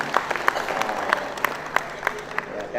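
Indoor audience at a gathering of provincial PKK leaders in West Java claps in rhythmic, roughly regular claps over a crowd murmur, moderately loud and fairly close.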